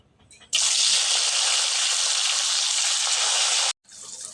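Taro stems (dati kochu) drop into hot oil and set off a loud, steady sizzle that starts abruptly, roars evenly for about three seconds, then cuts off sharply.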